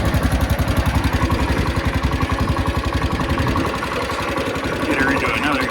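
A Cub Cadet lawn tractor engine chugs in a fast, steady rhythm close by, the pulsing beat easing slightly partway through while a person talks over it.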